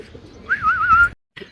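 A single soft, wavering coo from a racing pigeon nearby, lasting about half a second, followed by a brief pause and a faint rustle.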